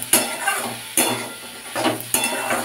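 A spoon stirs bitter gourd curry with salt in a pan, making repeated scraping and clinking strokes every second or so over a faint sizzle, close and moderately loud.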